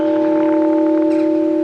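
Granite bells ring with sustained, steady tones that hang in the air, a bright near resonance holding evenly throughout with no voices.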